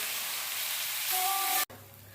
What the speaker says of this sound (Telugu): ఇదిగోండి, వేగిపోతుంది చూడండి